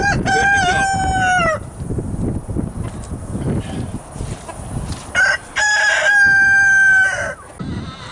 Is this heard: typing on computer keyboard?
no